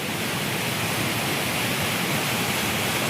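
Water gushing out of a traditional water mill in a Pashto village, a loud, dense, continuous roar close by with no pauses and no voices.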